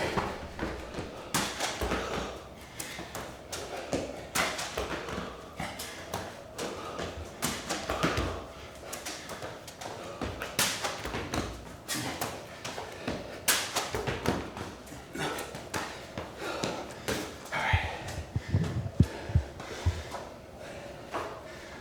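Repeated thuds land at a steady pace as a person does rounds of jumps in a workout, hands and feet striking the floor. Heavy and light impacts recur throughout with faint movement noise between them.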